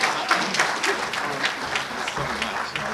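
Audience applause for a graduate student scholarship recipient at a reception, a dense, steady wash of many hands clapping that carries loudly and evenly throughout with no voices over it.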